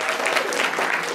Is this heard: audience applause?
yes